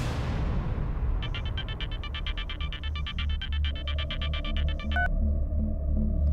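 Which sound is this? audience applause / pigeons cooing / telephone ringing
telephone ringing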